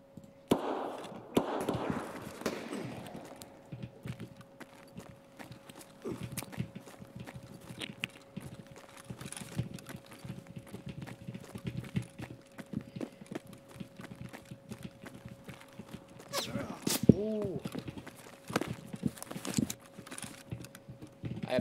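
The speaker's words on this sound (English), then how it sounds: "We're gonna repack this mag." Repacking a rifle magazine in Escape From Tarkov: a long series of small, irregular metallic clicks as rounds are pressed in one by one, fairly quiet, with a steady tone and occasional louder knocks in the background.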